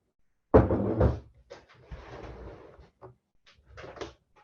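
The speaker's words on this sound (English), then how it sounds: "let me close the door" A door swings shut in a room just before an online working-group presentation: a sharp bump and clatter, a second knock, then softer scraping and a few final taps.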